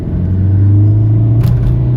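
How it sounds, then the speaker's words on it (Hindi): A modified Baleno diesel car accelerates after a downshift to second gear, a loud close engine drone rising steadily in pitch over about two seconds, with a brief light clink partway through. "देखो मैंने सेकंड गियर डाउनग्रेड करा और देखो"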